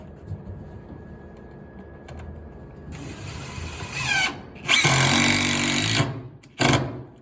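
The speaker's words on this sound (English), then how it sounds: "he's fastening it through the sole plate, through the 3/4 inch tongue and groove" Power tool fastening a wall sole plate through 3/4 inch tongue-and-groove OSB subfloor into a floor joist, heard as loud mechanical bursts of driving, each a second or so long, after a quieter room background.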